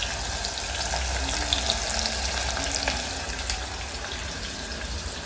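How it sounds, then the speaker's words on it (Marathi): Sliced onion frying in oil in a pressure cooker, a steady close sizzle that holds at an even level throughout, with faint clinks of stirring and no talk. "छान असं परतवून घेते पहिला"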